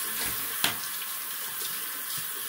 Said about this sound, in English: Rinse off real quick.